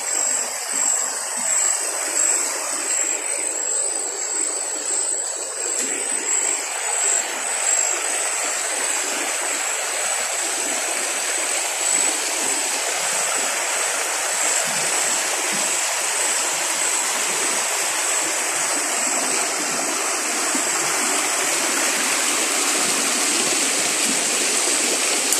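An Amazon rainforest waterfall roars in a steady broadband rush of falling water, with a constant high-pitched chorus of crickets above it, loud and unbroken with no talking.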